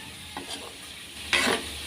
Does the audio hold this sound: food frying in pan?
yes